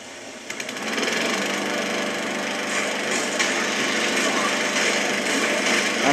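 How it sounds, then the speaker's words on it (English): A lawnmower in the video game Dead Rising 2 roars in as a dense, buzzing mechanical drone that starts up within the first second and then holds steady, loud and continuous. "Ah, cool, lawnmower."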